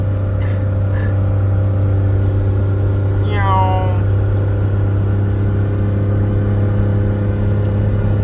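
A kei car cruises along a road with a steady, droning engine hum and road rumble inside the cabin, broken by a brief voiced exclamation.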